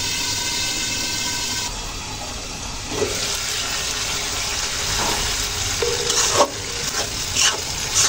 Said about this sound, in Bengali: হালকা পানি যোগ করে নিলাম, এতে সবজিগুলো কষাতে সুবিধা হবে